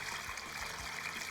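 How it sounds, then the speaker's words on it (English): Water from a bucket that previously held mud is poured steadily into a small model chinampa, a continuous close trickling and splashing rush with no pauses. "So I'm gonna take some water and cross my fingers here that this thing starts to float after filling it up a little bit."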